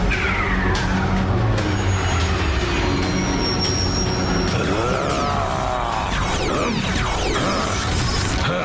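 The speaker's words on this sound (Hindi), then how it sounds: "अरे माँ, गाड़ी तेज भगाओ रे।" A jeep speeds along in a chase, a loud continuous engine roar and rushing drone with rising and falling pitch sweeps and no voices.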